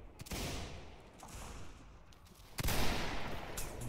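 Musket volleys crackle through a Civil War battle game, a steady ragged fusillade of many guns at a distance, swelling into a louder, closer burst of fire partway through.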